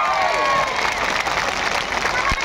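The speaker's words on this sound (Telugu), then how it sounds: "మన మంత్రి గారు ఉన్నాడు ఇక్కడ, గట్టిగా చప్పట్లు కొట్టండి" A crowd claps loudly for the minister at a Telugu-speaking gathering, a dense, steady wash of applause with a murmur of voices and cheering beneath it throughout.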